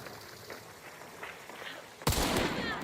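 A single loud sniper rifle shot in a video game cracks out near the end after a stretch of quieter ambient game sound.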